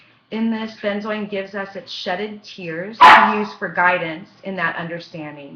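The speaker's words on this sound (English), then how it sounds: "sorry about the dogs in the background" A person speaks steadily while dogs bark in the background, with one sharp, louder bark cutting through midway.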